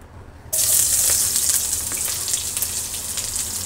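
Chopped onion hits hot oil for a Bengali pasta dish, a sudden loud hiss and sizzle that starts abruptly and keeps crackling steadily.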